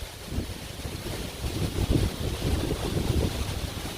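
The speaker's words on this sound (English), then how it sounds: "it's a very windy day today" Strong wind on a very windy day buffets the microphone with a constant low roaring rumble that swells in gusts, loud and close, with no voices.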